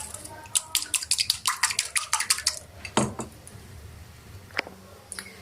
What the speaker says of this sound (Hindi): तो अंडे को मैंने अच्छी तरह से जो है वो फेंट लिया है